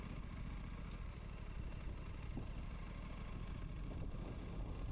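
An Aprilia RS457 sport motorcycle rolls along at idle in gear without throttle, its engine giving a quiet, even low rumble with faint mechanical clatter throughout, steady and unaccented.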